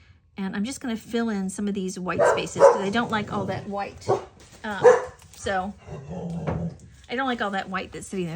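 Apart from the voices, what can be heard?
dog barking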